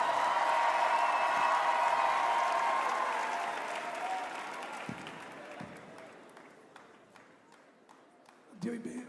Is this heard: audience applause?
yes